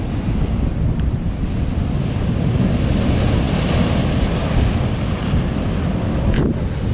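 Big ocean swell rolls in and breaks along a rocky fishing shore, a loud continuous roaring wash of surf mixed with heavy wind buffeting the microphone, no voices.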